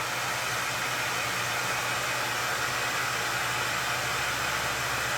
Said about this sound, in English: Now I'm going to go ahead and turn the hair dryer on